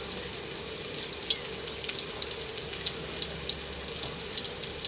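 Food fries in a pan on a home stove, a steady close sizzle with scattered crackles and pops and no voices.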